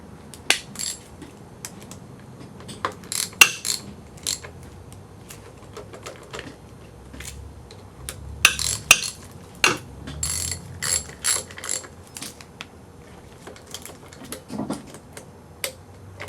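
A ratchet tightens the four bolts during a timing belt job on a 1.8T Audi A4 B5, with close, crisp bursts of rapid clicking and occasional metallic clanks in a quiet workspace.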